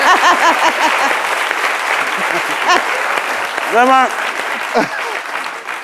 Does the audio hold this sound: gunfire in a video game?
no